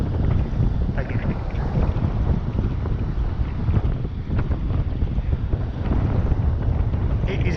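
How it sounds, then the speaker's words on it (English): Strong wind buffets the microphone on a boat at sea during a fishing trip off Fuerteventura in the Canaries, a loud continuous roaring gusting throughout with no talk. "It is very windy."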